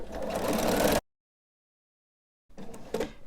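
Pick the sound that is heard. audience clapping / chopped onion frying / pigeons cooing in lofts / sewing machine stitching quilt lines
sewing machine stitching quilt lines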